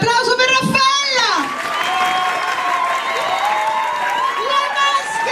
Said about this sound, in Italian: L'applauso per Raffaella,